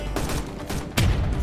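Gunfire crackles through a Roblox D-Day beach battle, then a heavy, booming mortar blast lands close by and rumbles with a deep low-end thud for the final half second.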